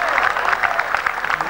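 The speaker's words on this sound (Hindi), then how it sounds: "सारे लोग एक बार ताली बजाकर मुझे बताएं कि मैं इस बात का जवाब दूं।" An audience at a public gathering claps together in a brief, dense burst of hand claps, steady and fairly loud, with a voice faintly mixed in.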